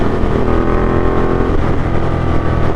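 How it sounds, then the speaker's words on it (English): 2015 Ducati Diavel motorcycle engine running loud and close, a dense, continuous roar held steady for a few seconds with no talk over it. "Wow, the sound of this motorcycle is just beautiful."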